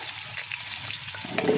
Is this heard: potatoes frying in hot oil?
yes